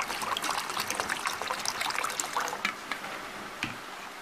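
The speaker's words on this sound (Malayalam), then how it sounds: "ഞാനിതിലേക്ക് കുറച്ച് വെള്ളം ഒഴിക്കുകയാണ്" Water trickles and pours steadily into a bowl of tamarind to make tamarind water for homemade phuchka, a light, close splashing stream that tapers off near the end.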